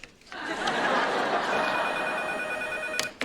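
An office telephone rings on the sitcom Friends, a steady electronic tone that lasts about three seconds, with faint laughter and a brief voice near the end.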